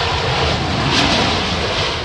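An Air Canada airliner in its blue livery lands at Heathrow in strong wind, a loud, steady roar of engines and rushing air that fills the whole moment without a break.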